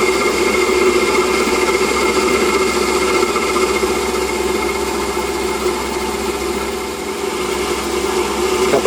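A Warco WM180 metal lathe takes light cuts on a 20mm bar, with a steady, loud motor whine and cutting buzz held evenly throughout, no voices.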